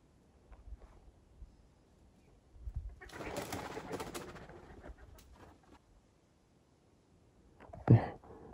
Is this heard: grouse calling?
yes